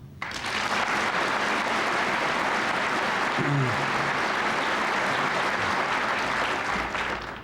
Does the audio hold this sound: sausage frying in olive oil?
no